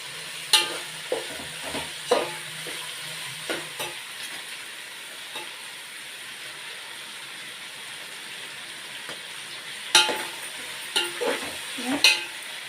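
Cabbage pakoda ingredients frying in a pan, a steady low sizzle with a few sharp stirring scrapes and clinks at the start and again near the end.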